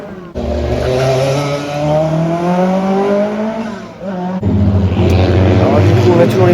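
Loud racing engines of Lancia cars rising in pitch as they accelerate past on the Circuit des Remparts, one after another, with a sharp cut to another roaring engine near the end.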